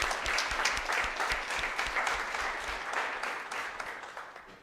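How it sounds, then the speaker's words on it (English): An audience at a lecture-series event gives a round of applause, many hands clapping steadily and fairly loud, the sound gradually thinning and fading toward the end. "one more round of applause for Daisha"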